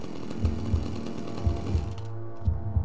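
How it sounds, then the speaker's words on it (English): Chainsaw engine from the video game Manhunt running steadily, with a rough sputtering idle and repeated revving surges roughly every half second to second, fairly loud and close with no talk. "chainsaw makes noise when the engine is running"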